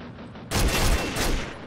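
A short burst of rapid gunfire in an online shooter game, loud and sudden after a quieter start, with a rattling volley that lasts about a second.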